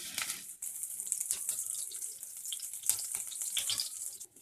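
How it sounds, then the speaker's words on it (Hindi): Green chilies sizzle in hot oil in a wok, giving a continuous close hiss and crackle with small pops throughout and no voices. "ऑयल गर्म हो चुका है तो इसमें डालेंगे हरी मिर्च"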